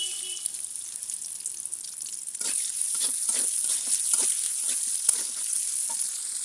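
Chopped onion sizzles steadily in hot oil, with a bright hiss and occasional crackles and stirring scrapes, fairly close and continuous with no talk.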